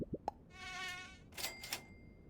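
A Super Auto Pets mosquito lets out a high, nasal buzzing whine for about a second, its pitch wavering. A couple of short clicks come before it, and brief bright game chimes follow.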